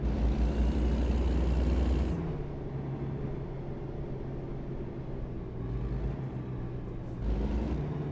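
A Kenworth W900 truck in a driving video game rumbles with a deep, steady engine drone, loud and close throughout, with the engine note shifting lower after a couple of seconds and rising again near the end.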